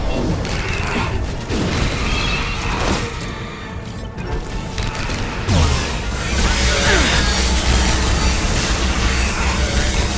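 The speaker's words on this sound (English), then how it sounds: "Firing anti-ship batteries at collector vessel." Heavy anti-ship batteries of the Guardian defense cannon fire on a Collector vessel in the game Mass Effect, a sustained booming, rumbling barrage with crashing blasts and a whooshing roar that swells louder partway through.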